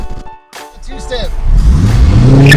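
A Lexus GS430 engine revs and climbs into a loud, sustained growl, with voices talking briefly at the start.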